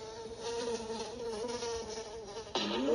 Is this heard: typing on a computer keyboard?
no